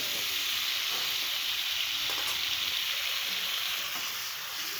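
Eggs seasoned with turmeric and salt fry in hot oil, a steady, close sizzle with continuous bright hiss and faint crackles throughout, no talking.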